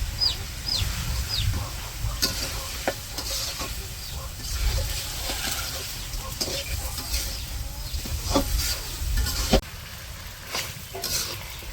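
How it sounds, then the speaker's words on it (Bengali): Magur catfish is added to spice masala frying in a pan, with a low, steady sizzle and intermittent sharp stirring scrapes and knocks. "মশলা তো কষানো শেষ, এখন হচ্ছে মাছগুলো দিয়ে দিব।"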